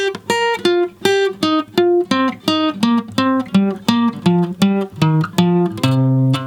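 Electric guitar playing a minor pentatonic note-stacking exercise slowly, a steady run of clean, evenly alternate-picked single notes stepping through the scale, loud and alone with no talk.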